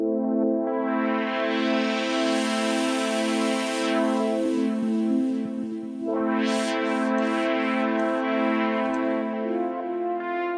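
A Moog Model 15 modular synthesizer, sequenced over MIDI, plays a repeating bass pulse under sustained bright tones whose timbre sweeps and shifts, loud and continuous with no talk.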